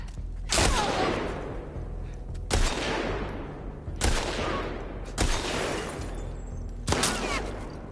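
Gunfire in the video game The Last of Us Part II: five loud, sharp single shots spaced one to two seconds apart, each with a ringing decay, close and alone.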